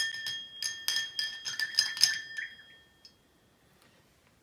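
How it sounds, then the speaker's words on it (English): A spoon gives a drink in a glass a quick stir, with rapid bright clinks against the glass for about two seconds before a few fading rings and then quiet. "We're going to give it a real quick stir."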